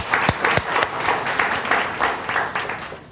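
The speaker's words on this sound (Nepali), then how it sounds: "ताली बजाइदिउँ न परमेश्वरलाई" A church congregation bursts into applause, a dense, steady wash of many hands clapping that continues throughout, with no one speaking over it.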